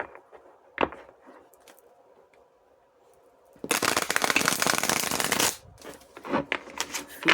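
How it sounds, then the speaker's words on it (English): Tarot cards shuffled in a burst of dense riffling and flapping, loud and close, after a quieter stretch with a single soft tap, then trailing off into a few scattered card snaps. "Since I can't shuffle these very well"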